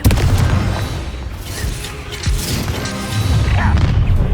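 A Confringo fire spell blast from Hogwarts Legacy, a loud booming crash with sustained roaring, rumbling debris noise that swells again toward the end, with no voices over it.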